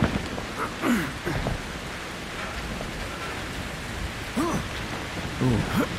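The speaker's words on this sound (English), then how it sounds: "Side of the building while it's raining." Steady rain falls outside the side of a building in the horror video game Outlast 2, a constant wash of noise under scattered bursts of someone talking.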